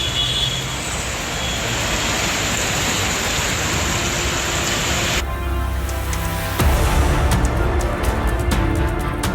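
Heavy monsoon downpour in Delhi, a dense steady roar of rain on surfaces that shifts partway through to a harder patter with distant traffic rumble beneath.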